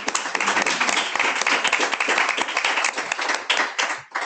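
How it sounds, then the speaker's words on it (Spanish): Warm welcoming applause from a seminar audience, dense and lively clapping from many hands close by, sustained throughout and thinning slightly near the end, with no speech over it. "os pedimos ambas un aplauso muy caluroso de bienvenida"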